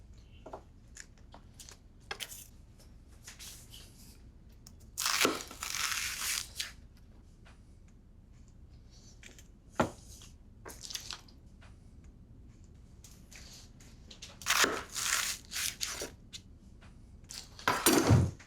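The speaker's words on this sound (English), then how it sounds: "Cut your endives in half." Knife cutting endives in half, soft crunchy squishing slices scattered through a quiet kitchen, several short bursts spaced apart with faint clicks between them.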